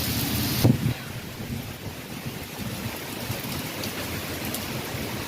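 Heavy rain and gusting wind during an outdoor thunderstorm: a steady, loud wash of noise with a brief rumbling buffet against the microphone near the start.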